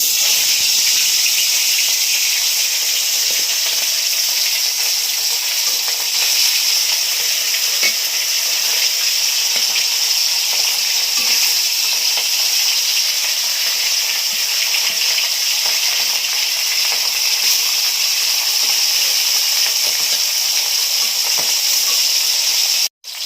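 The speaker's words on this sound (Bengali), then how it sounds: "মাছগুলো ভেজে নিচ্ছি।" Khoira hilsa fish fry in hot oil in a wok, a loud, steady sizzle that hisses without a break from start to finish.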